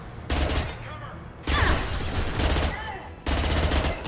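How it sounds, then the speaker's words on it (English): Rapid automatic gunfire from the Mass Effect 2 Legendary Edition video game, three long sustained bursts separated by brief pauses, loud and close, with faint game sounds between bursts. "I am trying to shoot that dude's tank"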